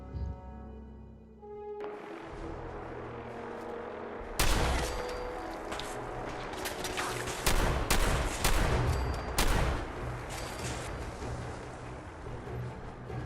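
An overpowered gun fires in a video game, bursts of rapid shots crack loudly over a busy background rumble after a quieter opening, with sharp repeated volleys through the middle.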